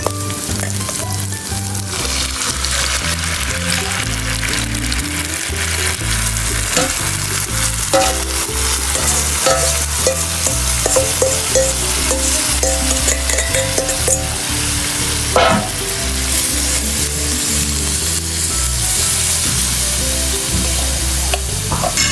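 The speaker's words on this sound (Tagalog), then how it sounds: "At ilagay na natin ang nakamarinate na lito." Marinated pork litob, a spicy dish, sizzles and fries steadily in a hot pan, with repeated scraping and clanking of a utensil as it is stirred; loud and continuous throughout, no talking.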